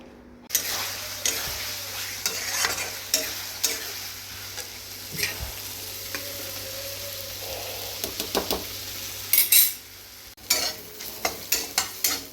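Potatoes and pointed gourd frying in a pan, a steady sizzle under repeated sharp clicks and scrapes of a spatula stirring, close by, with no talk.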